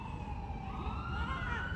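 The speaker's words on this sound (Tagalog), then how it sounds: "Yan, may ambulansya." An ambulance siren wails steadily at night with rising and falling tones over a constant low engine and road rumble, loud and near throughout.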